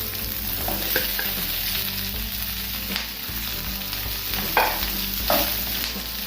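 Cubed red and green capsicum sautéing in a pan with onions for chicken kung pao: a steady, loud sizzle and crackle throughout, with occasional utensil scrapes and stirring clatter, no voices.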